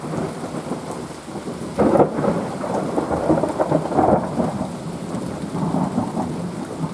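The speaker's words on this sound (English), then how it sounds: "So it's raining right now" Steady rain pattering on a surface, with two deep thunder rumbles rolling through partway in; no talking.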